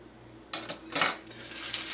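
Stainless Cambridge bistro flatware being handled, a few sharp metallic clinks and rattles as pieces knock together, close and clear in a quiet room.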